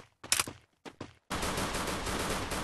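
Gunfire in the Free Fire Clash Squad game: two short bursts of shots separated by a brief gap, then a sustained loud stretch of rapid automatic fire up close.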